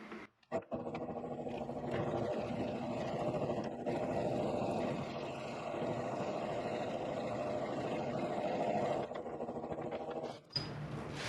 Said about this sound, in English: I'm going to start with a 2-inch Forstner bit. I have an extension on it.